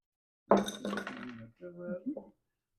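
Ice cubes and cut strawberries dropped into a cocktail glass for a strawberry shrub drink, making a quick cluster of bright clinks and knocks followed by softer rattling settles, close and clear.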